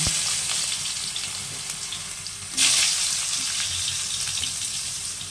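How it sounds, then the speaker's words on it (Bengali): Eggplant frying in hot oil with tempering spices such as black cumin, a steady loud sizzle that surges suddenly midway as more pieces hit the pan, with no talking. "ফোড়নটা হয়ে গেছে, এবার দিয়ে দেবো প্রথম বেগুন।"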